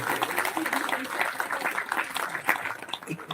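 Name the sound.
audience applause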